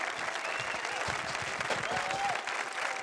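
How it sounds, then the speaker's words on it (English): Audience applause: a steady wash of hand clapping from a modest crowd, held at an even level for a few seconds. "So y'all give me a hand clap."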